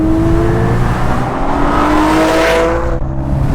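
Porsche 718 Spyder or 981 GT4 engine pulling hard under acceleration, a loud continuous flat-six drone rising in pitch through the revs, heard from close by without speech.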